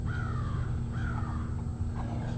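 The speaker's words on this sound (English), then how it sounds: "Always a damn crow around." Crows caw in a residential neighborhood, three harsh calls spaced about a second apart over a steady low hum, fairly near.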